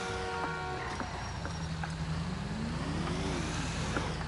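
A Kuruma car in GTA 5 drives with a steady engine drone whose pitch rises and falls as it accelerates, alongside scattered game clicks and tonal effects; nobody speaks.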